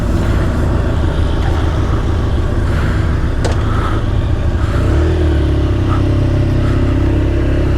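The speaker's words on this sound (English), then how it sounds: "It's just traffic." Loud, continuous road roar of traffic on the I-40 highway heard from a motorcycle fitted with fresh Pirelli Diablo Rosso III tyres, with engine drone and a passing vehicle's pitch shift, unbroken by speech.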